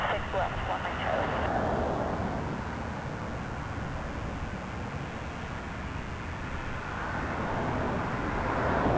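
An Airbus A320 airliner at Toronto Pearson Airport gives a steady, broad engine roar with a brief higher whine at the start, holding fairly loud throughout, while radio chatter and voices sound over it.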